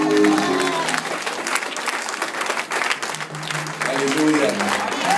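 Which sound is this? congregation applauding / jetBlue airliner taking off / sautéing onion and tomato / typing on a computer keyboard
congregation applauding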